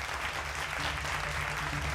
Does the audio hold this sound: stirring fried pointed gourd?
no